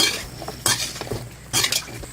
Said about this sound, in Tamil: வெறும் கடாயில் கட் பண்ணி வச்சிருக்கிற வெண்டைக்காவை போட்டு நல்லா வதக்கணும்